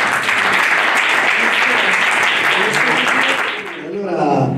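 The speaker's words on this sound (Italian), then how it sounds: "Allora, un applauso per Pietro Caruso." Audience applause at a Valentine's Day presentation event in Longiano, Italy, a dense, steady clapping that fills the room and fades slightly near the end before swelling again, with voices mixed into the crowd.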